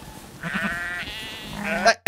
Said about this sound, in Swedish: Sen såg jag de här fåren också, och de var så gulliga.